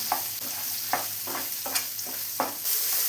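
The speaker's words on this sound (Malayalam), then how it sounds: "ഇതിലോട്ട് വെണ്ടക്കായ ചേർത്ത് കൊടുക്കാം. ഇതൊന്ന് ഫ്രൈ ചെയ്തെടുക്കാം." Okra frying in hot coconut oil in a pan: a steady close sizzle, broken by about five sharp scraping stirs at irregular intervals, with no voices.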